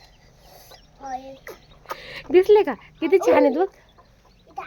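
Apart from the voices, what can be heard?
hen clucking with newly hatched chicks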